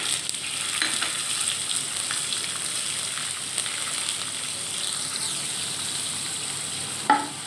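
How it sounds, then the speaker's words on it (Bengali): Chickpeas, dried chili and bay leaf fry in hot oil with a steady, bright crackling sizzle throughout, closing with a sharper pop or stir near the end. "এই দেখুন এখানে দিয়ে দিলাম শুকনো লঙ্কা আর তেজপাতা, আর দিয়ে দেবো 5 ফোঁটা কিছুটা, আর দিয়ে দেবো ছোলা।"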